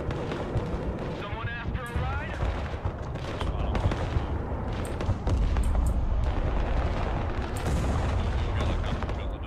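Heavy gunfire and artillery-like booms from the Broken Arrow real-time tactics game rumble steadily through a dense battle, with a voice talking over the continuous barrage.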